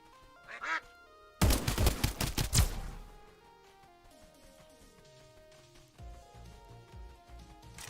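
Ducks in the video game Duckov quack at the start. A burst of rapid sharp impacts like gunfire follows, then quieter game sounds and more scattered quacks.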